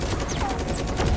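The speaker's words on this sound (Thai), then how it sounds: "งั้นผมยิงหุ่นมันไปก่อน" Rapid gunfire at a mech in the game Super Mecha Champions, as a dense, continuous burst of loud shots with no pauses.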